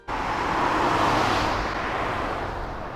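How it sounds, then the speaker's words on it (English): Single car passing by, recorded in mono outdoors, rising quickly to a loud broadband whoosh that fades slowly over a few seconds, with no voices. "each of these car drive-bys are in mono"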